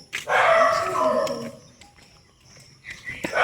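Several dogs bark at a riverside market beneath a bridge, with a loud burst of barking over the first second and a half, then quieter background noise before another short bark near the end.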